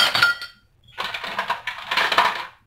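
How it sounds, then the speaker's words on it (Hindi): Ice cubes dropped into a glass while preparing a summer mocktail: a short burst of hard clinks, a brief pause, then a longer run of rattling, clattering knocks, close and clear. "अभी हम पहले ग्लास में आइस क्यूब ऐड करेंगे"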